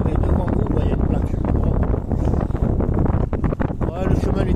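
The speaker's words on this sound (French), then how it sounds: "par contre il y a du vent" Strong wind buffets the microphone outdoors at Sagres on the Portugal coast during a cycling tour, a loud, continuous rumbling roar with gusty surges throughout.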